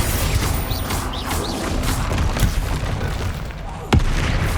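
Spell explosions from Bombarda and Confringo in Hogwarts Legacy, a dense run of game-combat booms and crashes over a busy effects bed, with one sharp loud blast near the end.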